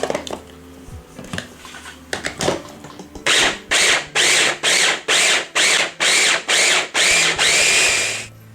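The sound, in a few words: food processor chopping bacon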